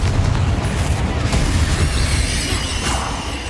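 Bombarda explosion spell blasts in a Hogwarts Legacy battle: dense, loud booming and crackling detonations rolling together without a break, near and forceful throughout.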